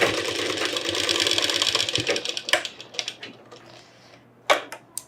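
A sewing machine runs a fast, steady stitching clatter through Pathani kurta fabric, then slows into a few separate bursts and brief stops near the end.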